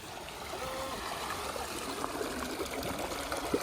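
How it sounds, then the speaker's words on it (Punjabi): Water flows out in a steady, fairly quiet trickling stream, running on evenly with small splashy ticks and no one speaking. "ਹੁਣ ਪੂਰਾ ਚੱਲ ਪਿਆ ਪਾਣੀ"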